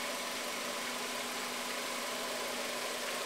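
A car engine holds steady at about 2,000 RPM during a charging-system load test, a constant broad hum with a faint tonal whine, heard alone at moderate distance.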